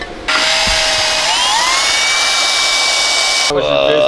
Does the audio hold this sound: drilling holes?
yes